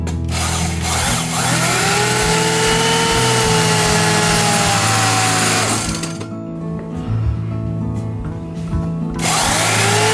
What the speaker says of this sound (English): Now, I groove the stringer using a 21mm blade groove cutter.